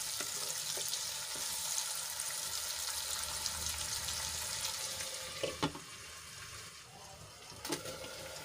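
Tomatoes and onions cook in a covered pan, giving a steady soft sizzle and bubbling hiss throughout, with a few brief clinks near the end and no talking.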